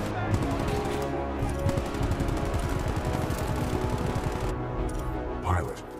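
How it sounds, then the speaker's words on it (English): Sustained machine-gun supporting fire in the game Titanfall 2 rattles rapidly and steadily for the full stretch. A voice speaks over the rapid bursts, and a dull thump lands near the end. "Supporting fire. Danger close."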